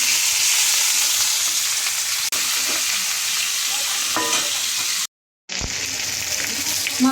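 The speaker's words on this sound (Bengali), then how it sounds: "কাতল মাছের মাথাটা আমি ভেজে নিচ্ছি" A catla fish head fries in hot oil, a loud, dense crackling sizzle close by with stirring scrapes, broken once by a brief drop to near silence before the frying noise returns.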